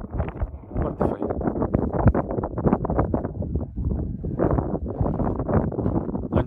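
Gusty early-morning wind in the Bucegi Mountains buffets the microphone in a steady, rough rush of noise, rising and falling continuously throughout.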